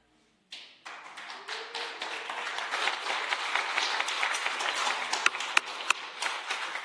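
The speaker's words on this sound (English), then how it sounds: "please try and hold your claps to yourselves so we don't have disruption in the meeting" Sustained applause from an audience at a city council meeting in a Rockford, Illinois city hall, starting abruptly and building into dense, steady clapping that fills the room, with a couple of sharper isolated claps near the end.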